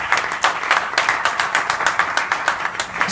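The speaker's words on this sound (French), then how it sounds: "Sous vos applaudissements, s'il vous plaît." Audience applause at a Francophonie fiftieth-anniversary celebration at a French institute in Yaoundé, steady clapping from a modest crowd, close and even for a few seconds.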